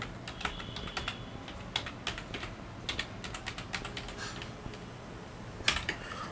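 Fingers tap out a password on a computer keyboard, a quick irregular run of light, close key clicks with a firmer keystroke near the end, in a quiet room with no talking.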